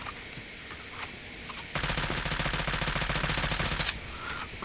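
A Type 25 rifle in Call of Duty fires one sustained fully automatic burst of rapid, evenly spaced shots lasting about two seconds, loud and close, with a few faint single shots before it.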